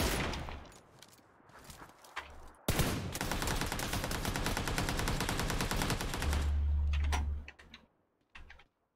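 Gunfire in PUBG Lite on the Miramar map comes in rapid bursts: scattered single shots, then a long sustained volley of automatic fire with heavy low thumps, then a few trailing shots after a pause.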